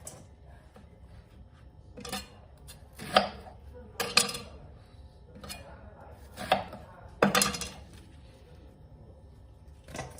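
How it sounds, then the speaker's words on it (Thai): A knife chops a small onion on a cutting board in a handful of sharp, irregular strikes, close and distinct over a quiet room background. "ถ้าหอมลูกใหญ่ก็หั่น ให้ถี่ได้ค่ะ"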